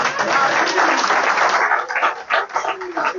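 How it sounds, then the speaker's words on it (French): A television studio audience bursts into steady, loud applause on a French-language talk show, the clapping dense and continuous, thinning slightly toward the end. "Applaudissez-moi ça."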